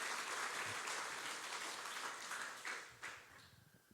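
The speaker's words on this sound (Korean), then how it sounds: "박수 한번 해주시기를 바랍니다." A church congregation applauds together, dense clapping that holds steady and then fades out over a few seconds, fairly faint and distant.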